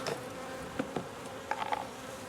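Honey bees buzz around a hive during cold-weather feeding, a faint, soft hum with a few brief, sharper buzzes of individual bees close by, with no talk.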